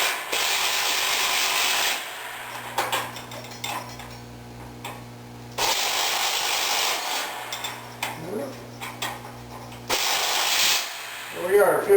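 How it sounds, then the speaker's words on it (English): Small electric impact wrench firing in three short hammering bursts, each about two seconds long, separated by quieter pauses filled with light clinks and handling noises. "These little electric impact wrenches are pretty slick."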